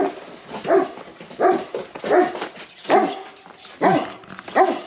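A dog barks six times in a steady, evenly spaced series of loud, fairly close barks along a coastal walking trail, with brief quiet gaps between them.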